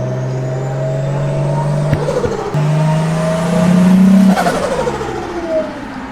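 A Nissan Stagea with an RB25DET engine revs hard on a dyno: a loud, close engine whine climbs in pitch, drops briefly, then surges higher before easing off.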